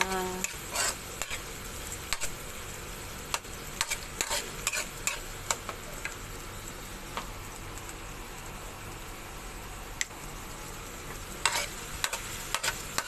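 Tomato pasta being stirred in a pan, with a utensil scraping and clicking against the metal at irregular moments over a soft, steady frying sizzle.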